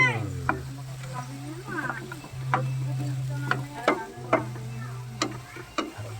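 Food is stirred in a pan with a spatula, scraping and clinking in irregular strokes over a faint sizzle, while a voice speaks briefly and a low steady hum runs underneath.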